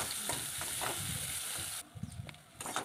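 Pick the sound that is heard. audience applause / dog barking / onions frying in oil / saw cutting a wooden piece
onions frying in oil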